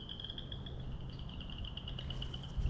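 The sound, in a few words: chorus frogs calling in spring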